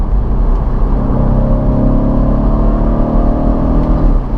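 A BMW Z4 roadster with the roof down, gearbox and drive mode in sport plus, accelerating with a loud, steady engine drone and rising tone, heard from inside the car without talk.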